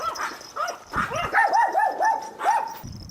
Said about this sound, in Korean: 동네 개들의 격한 인사다.